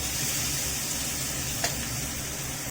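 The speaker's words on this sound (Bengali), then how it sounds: "এবারে আলু আর পেঁয়াজটাকে আমি খুব ভালো করে ভাজবো।" Potato and onion pieces fry in oil in a pan with a constant, dense close sizzle, one brief stir partway through and a sudden stop at the end.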